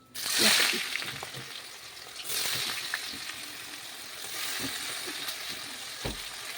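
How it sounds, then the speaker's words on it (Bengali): Dried red chillies, bay leaf and whole cumin crackle and sizzle as they hit hot oil for a mutton curry, a loud spitting burst at first that settles into a steady fry with occasional pops and stirring, no voices. "এবার এই তেলের মধ্যে আমি দিয়ে দেবো শুকনো লঙ্কা তেজপাতা আর গোটা জিরা"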